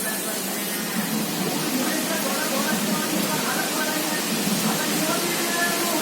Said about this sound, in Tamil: செயினோட இன்னர் சைடில் பார்த்தீங்கன்னா இந்த மாதிரி ஜஸ்ட்டு ஸ்ப்ரே பண்ணிட்டே வாங்க.